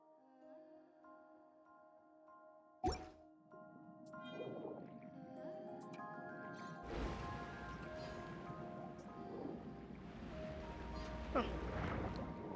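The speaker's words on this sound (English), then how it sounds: "High pressure water vent" A high-pressure water vent in Genshin Impact bursts with a sharp whoosh after a quiet stretch of tones, then settles into a sustained rushing, gurgling gush of water with another surge near the end.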